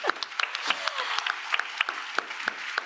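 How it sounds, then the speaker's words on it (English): Delegates at the opening ceremony of the 2025 World Food Forum Global Youth Forum applaud, a continuous wash of clapping with distinct close claps popping out at an irregular rhythm, moderately loud and without speech. "A round of applause."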